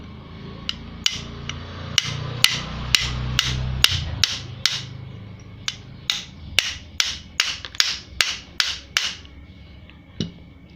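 Sharp metal hammer blows strike the shaft of a Maspion electric fan, about twenty close, loud taps in an irregular sequence that quickens into a steady rhythm of ringing knocks before a final isolated hit.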